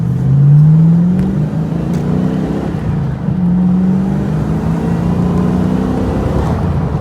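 A TVR Chimaera sports car engine drones steadily on the road, with rising tones as it accelerates, close and continuous throughout with no talk.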